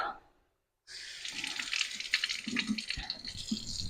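Tap water runs into a kitchen sink, a steady hiss of flow with small splashes and drips that starts after a brief silence.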